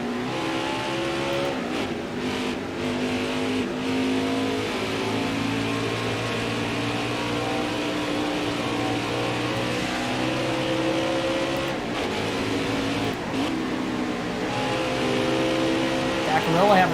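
Xfinity Series race cars at Road America in the NASCAR Heat 5 video game roar steadily in a continuous engine drone with shifting pitch, under constant commentary talk.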